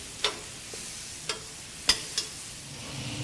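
Eggplant slices fry in a pan, giving a soft steady sizzle broken by a few sharp ticks and taps from flipping, with no voices.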